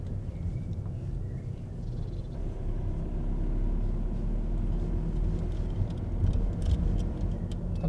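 A car cruises in second gear during a driving lesson, with a low, steady engine rumble and road noise from inside the cabin that swells slightly toward the end.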